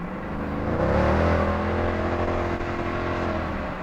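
A 2007 Mercedes CL63 AMG engine revs hard, its exhaust droning loud and steady through an open window, pitch climbing then holding as the car accelerates after dropping a few gears.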